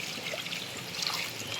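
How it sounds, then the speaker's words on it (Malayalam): Water pours into a pot for dried fish curry, a quiet continuous trickle that stays steady and close throughout, with no voices. "ഉണക്കമീൻ വേവാൻ ആവശ്യമായ വെള്ളം കൂടി ഒഴിച്ച് കൊടുക്കുക"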